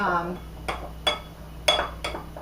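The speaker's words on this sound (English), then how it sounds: "work with this with a spoon and a bowl, and combine the" A spoon works butter and brown sugar together in a bowl for edible cookie dough, giving a few sharp clinks against the bowl spaced about every half second, close and fairly quiet, after a brief murmur of voice at the start.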